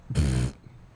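A cat meows once inside the video game What Remains of Edith Finch, a single clear, fairly loud tonal cry lasting under half a second, with nothing else around it.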